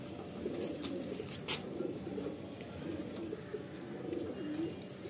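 Madrasi pigeons cooing softly in repeated low rumbling phrases, with light rustling and a brief clatter of movement nearby, fairly quiet and without speech.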